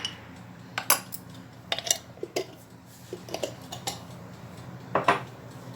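Several sharp metallic clinks and scrapes of a spoon against a cooking pot ring out in irregular bursts as tomato sauce is spooned in, close and fairly quiet with no talk.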